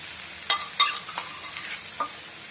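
A snack sizzles steadily on a hot tawa, a broad hiss running the whole time, with a few sharp clicks and scrapes from a spatula. The sound is close and nobody talks.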